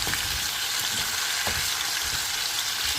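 Chopped tomatoes go into a hot pan for a Filipino sayote dish and fry with a steady, loud sizzle. Faint clicks of stirring come through now and then, and no voices are heard.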